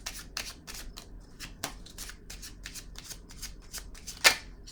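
Tarot cards are shuffled in a steady run of crisp, close riffling flicks, ending with one sharper snap as a card is drawn. No one speaks.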